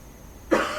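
A single harsh cough from a person recovering from the flu, close and loud, bursting out after a brief quiet moment.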